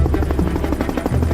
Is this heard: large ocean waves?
no